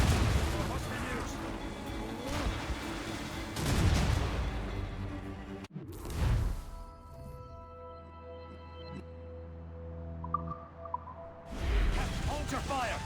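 Ship cannons fire during a naval battle in Assassin's Creed Rogue, with heavy booms at the start and again near the end, and a quieter stretch of game ambience between them.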